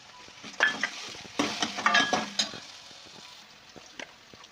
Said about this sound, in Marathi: तर टॉमॅटो टाकून घ्यायची